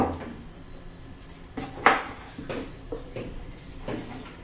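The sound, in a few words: chopping tomatoes finely with a knife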